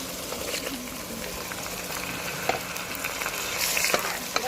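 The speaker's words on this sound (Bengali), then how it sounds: "মশলাগুলো ভালো করে নেড়ে কষিয়ে নেব।" Spices for a mutton curry sizzle and fry in a pan with a little added water, a steady close crackling hiss running throughout with a few sharper scrapes of stirring.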